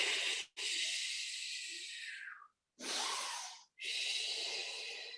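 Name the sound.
breathing during Pilates exercise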